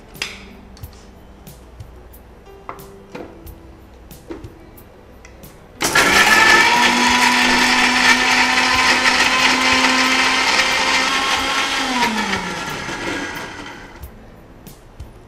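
A kitchen mixer grinder grinds cucumber chutney, starting abruptly with a loud, steady whirring motor roar that holds for about six seconds, then winds down, with quiet clinks and handling sounds before it.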